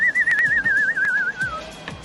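A person whistles a wavering, warbling tone that slowly drifts downward, imitating a cartoon character's whistle, with faint background chatter and small knocks around it.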